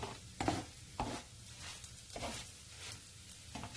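Semolina crepe batter sizzling in a pan greased only with butter, a soft continuous hiss broken by a few light scraping and stirring touches, fairly quiet and close.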